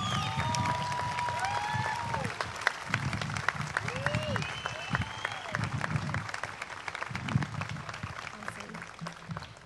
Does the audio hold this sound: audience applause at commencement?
yes